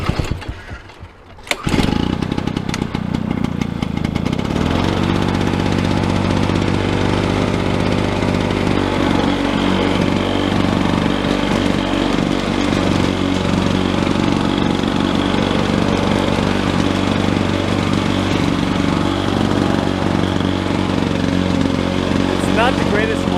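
A 1991 lawn mower engine, started on choke, sputters to life after a brief pull, then runs loudly and steadily at a constant drone for the rest of the clip.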